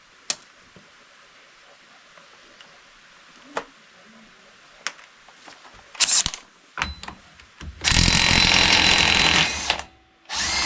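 Battery-powered impact tool on a large 30 mm axle nut of a 2022 Can-Am Commander 1000R: scattered clicks and taps, then a few short bursts before a loud, sustained hammering whir that cuts off abruptly.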